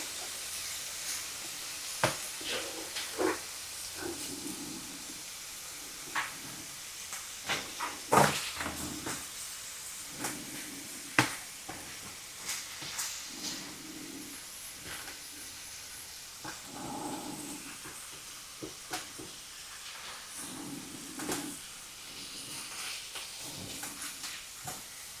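Chicken cooks in a skillet with a soft, steady sizzle and hiss, broken by occasional clinks and scrapes, low and continuous throughout.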